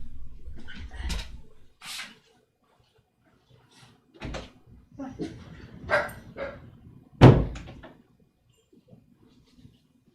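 Dogs being let out of the house bark in a few short, sharp bursts separated by quiet gaps, mixed with door and cupboard clatter nearby.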